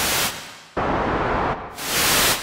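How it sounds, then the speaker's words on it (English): White noise from a Haken Continuum EaganMatrix synthesizer switches between a low-pass filtered version with muffled highs and the full unfiltered hiss, loud steady bursts with abrupt changes and no talk. "And you can even hear if I trigger the low pass, then the white noise."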